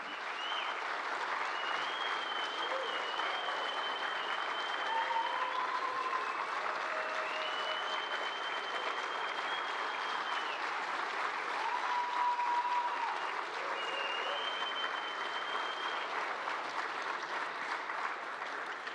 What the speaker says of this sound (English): How about a big round of applause for Betsy Gilman.